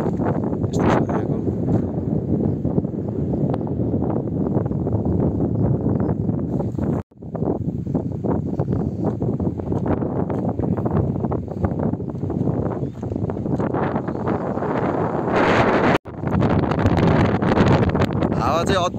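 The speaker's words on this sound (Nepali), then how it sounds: "हावा चाहिँ अति लागेको छ" Strong wind roars over a mountain viewpoint on the Bamruk to Sandhikharka route in Arghakhanchi, Nepal, a loud continuous buffeting across the microphone with two brief dropouts. Someone speaks over it.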